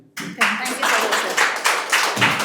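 An audience claps after a student's speech at a Tamil speech competition, a short loud burst of applause that rises in waves, with a voice talking over it.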